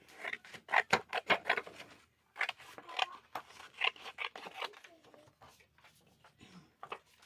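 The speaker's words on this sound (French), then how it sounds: "Je vais venir découper" Scissors snip steadily through paper while a small flower shape is cut out for a decorative art-journal collage, a quick run of close, crisp cuts followed by slower, softer snipping and rustling.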